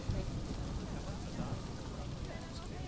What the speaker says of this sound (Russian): дождь льет, все льет